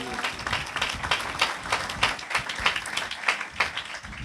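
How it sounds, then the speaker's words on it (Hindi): A church congregation claps loudly in thanks to the Lord, giving uneven, fairly close bursts of hand claps that rise and fall in waves, with some voices mixed in. "ताली बजा के जोरदार प्रभु को धन्यवाद दीजिए"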